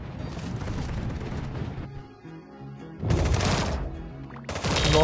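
Gunfire in the Sausage Man battle royale game: a dense burst of rapid shots, a brief lull, then two more loud bursts close by, with faint talk in the background.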